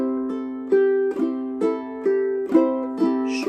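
Ukulele split-strum pattern in a ragtime style, steady strums broken by quick triplet flourishes, bright chord tones ringing close and clear with no voice over them.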